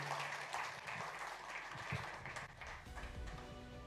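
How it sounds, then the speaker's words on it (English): Steady applause from a large audience at a live sports awards ceremony in Mumbai, a dense continuous wash of many hands clapping that carries on throughout without words. "And the applause continues"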